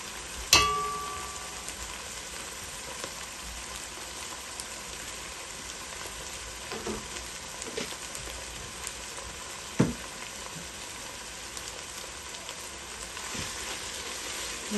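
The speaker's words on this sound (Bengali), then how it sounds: "খুব ভালো করে নাড়াচাড়া করে দিলাম" Meat and potatoes fry in a pan for bhuna, a soft continuous sizzle with occasional scrapes and knocks as the mixture is stirred, fairly quiet and with no voices.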